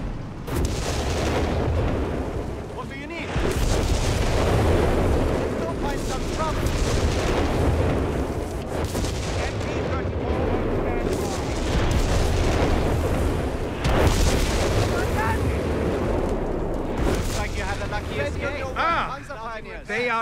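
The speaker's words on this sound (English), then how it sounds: "Incoming artillery!" Artillery shells fire and explode in a Company of Heroes 3 North Africa battle, with heavy booms and rumbling blasts rising and falling, mixed with battlefield noise and voices talking.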